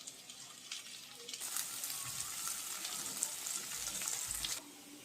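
Chopped onions and sweet corn frying in a pan, a steady hissing sizzle that swells louder midway as the food is stirred, with soft low knocks beneath.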